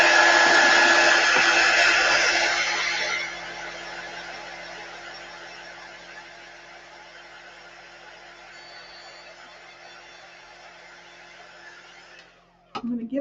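A hair dryer blows on freshly painted wood pieces for a sign, a steady close whir that drops to a lower setting after a few seconds, then clicks off at the end.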